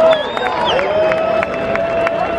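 A concert crowd cheers and whoops loudly for a performer, with scattered clapping and shouts forming a dense, steady roar across the whole stretch.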